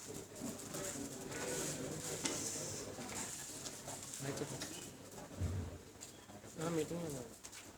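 Pigeons coo softly and repeatedly indoors, faint and somewhat distant, with low household clatter and indistinct background voices.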